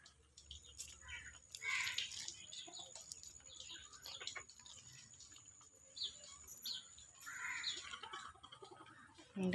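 Chickens cluck and chirp intermittently at a moderate distance around a henhouse, with a rooster's call now and then, over low background noise and some human voices.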